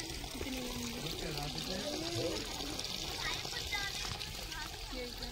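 Water runs and pours steadily at a snake rescue in Buada village, India, a continuous splashing stream under excited voices.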